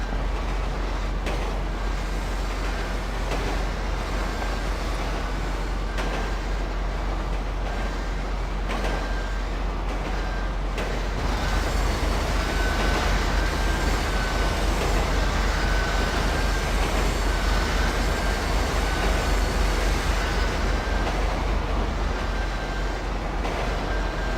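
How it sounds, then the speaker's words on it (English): A train in GTA V rolls along with a loud, continuous mechanical rumble and a low drone, growing slightly heavier partway through as it gathers pace. "Going to speed the train up a little bit."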